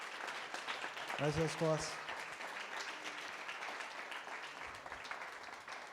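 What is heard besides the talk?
congregation applause in church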